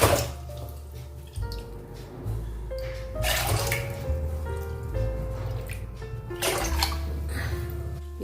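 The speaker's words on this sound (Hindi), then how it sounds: "तो इसमें हम पानी डालेंगे। मैंने बड़ा सा बर्तन लिया है।" Water poured from a vessel into a large cooking pot for basmati rice in a home kitchen, a steady splashing gush with shifting pitch as the pot fills, broken by brief pauses and renewed pours.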